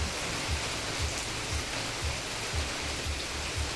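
Steady rain falls in a dense, even hiss, with soft rhythmic drips pattering beneath; no voices.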